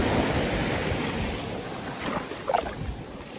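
Sea waves wash steadily nearby, a continuous broadband surge with wind buffeting the microphone and a brief splash near the end, no voices.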